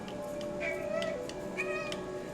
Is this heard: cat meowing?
yes